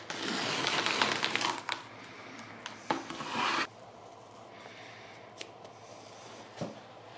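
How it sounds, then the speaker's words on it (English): Tape peels off a painted vintage bar cart in close, rasping tearing strips for the first few seconds, then quiet with a few small ticks and taps. "But now let's move on to removing this tape."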